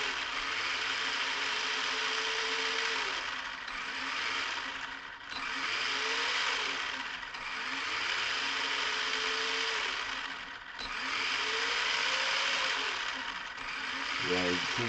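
A Losi Promoto MX RC supermoto runs slowly with a faint electric motor whine that rises and falls in repeated gentle throttle swells over a steady broadband hiss.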